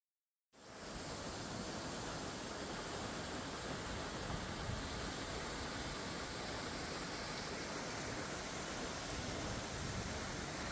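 Waterfall of Cachoeira do Remanso, a drop of about 9 metres into a deep, turbulent plunge pool, roaring as a steady, dense broadband rush that starts abruptly and holds constant, with no voices.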